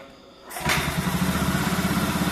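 Honda Scoopy or Beat scooter with an ignition fault is kick-started after a quiet moment, catching abruptly and settling into a steady, pulsing idle close by.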